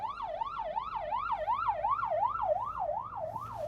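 An ambulance siren passes outside while the listener sits inside a Chery Tiggo 8 seven-seat SUV; a steady, regularly rising and falling wail repeats about every third of a second, clear and fairly loud, with no talking.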